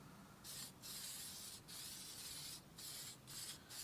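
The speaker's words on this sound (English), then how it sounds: "spraying all the plastic trims on your hoses" Several short bursts of dressing spray hiss from an aerosol can onto plastic engine trim of a 1993-97 Ford Probe GT, close up, with brief pauses between them over a low background rumble.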